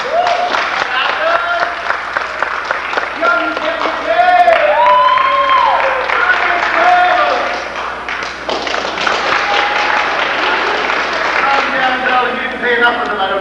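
An audience applauding at a theatre performance, loud steady clapping from a crowd mixed with cheers and some whistles, with voices speaking over it.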